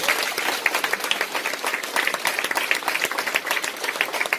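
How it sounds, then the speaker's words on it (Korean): An audience at a Mannatech business event applauds, with dense, sustained clapping from many hands that stays lively throughout. "박수 한번 주실래요?"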